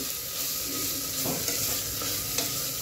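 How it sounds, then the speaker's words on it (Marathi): Konkani-style onion-coconut paste with tomato sautés in a pan, a steady close sizzle with a couple of soft stirring scrapes, no voices. "असं चांगलं असं परतून घ्यायचं। त्यामुळे काय होतं, चांगले मिश्रण होते आणि टोमॅटो पण हळूहळू शिजतो।"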